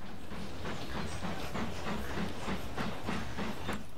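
Train passing in the Machinky video game, a rhythmic clickety-clack of wheels over rail joints with steady rumble and hiss, moderately loud and continuous.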